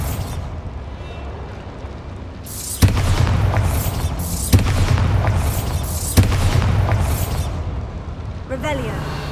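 Bombarda spell explosion in the video game Hogwarts Legacy, several heavy booming blasts at a few-second interval with rumbling tails, mixed with game sounds while a person speaks.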